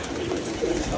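Pigeons coo in a steady low, soft, continuous murmur, fairly close, with a slight swell near the end and no talking.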